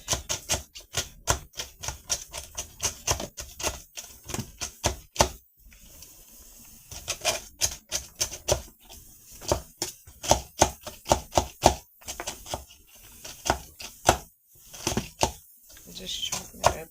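Rapid, sharp knife chops through walnuts and dates on a board in quick bursts with short pauses between, close and loud.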